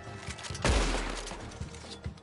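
A single loud gunshot booms out in the Red Dead Redemption 2 online game, its deep boom decaying over about a second amid faint background game sounds.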